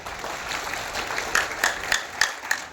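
Audience applause at a Jan Suraaj political gathering, a moderate wash of clapping that grows louder with sharper claps toward the end.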